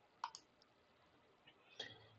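A computer mouse right-click during a C# programming session: one or two faint, quick clicks in a quiet room with a little soft tapping afterward.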